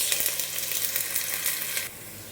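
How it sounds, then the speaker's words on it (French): Onions sautéing in hot oil over medium heat for a tomato and horse mackerel sauce, a steady close sizzle and crackle that drops away abruptly near the end. "Je vais faire revenir mes oignons à feu moyen pendant 2 à 3 minutes."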